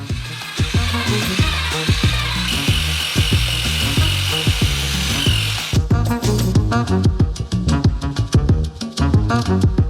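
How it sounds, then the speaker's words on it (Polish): A construction mixer stirs sugar and water in a bowl for doughnut batter, a loud buzzing drill-like whir with rhythmic pulsing and scraping that shifts character partway through. "Mieszamy za pomocą miksera budowlanego."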